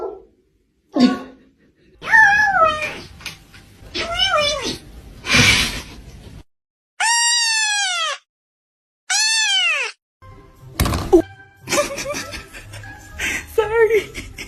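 A kitten lets out a series of drawn-out, rising and falling meows, some loud and close, spaced by short silences, with a person chuckling and talking softly between them.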